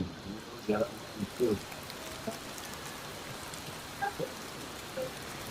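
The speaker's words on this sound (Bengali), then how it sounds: "বৃষ্টিটা তো দেখাতে পারবো না, কারণ বৃষ্টিটা এই অন্ধকারে দেখা যাচ্ছে না। সাউন্ডটা শোনাতে পারি।" Steady rain falls at night in offbeat North Bengal, a soft even hiss of drops throughout, broken by a few brief voices talking nearby.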